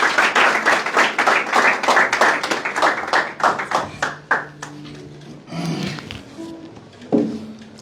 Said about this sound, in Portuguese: Uma forte salva de palmas para o nosso autor.